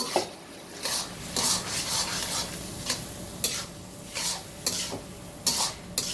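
Boiled chana dal being stirred into fried spices in a pan, with repeated scraping strokes of a spoon against the metal every second or so over a soft background sizzle, close and alone without voices.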